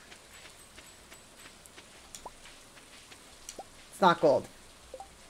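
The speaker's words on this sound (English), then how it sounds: "It's raining, rain." Rain falling in the farming video game Stardew Valley, a faint soft patter of scattered drops throughout, while a person talks briefly near the end.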